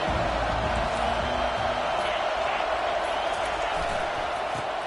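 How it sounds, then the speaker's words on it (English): Stadium crowd noise from the College Football 25 video game in a matchup against Nebraska: a dense, steady roar of many voices that holds at the same loud level throughout. "This crowd bringing the energy and noise early."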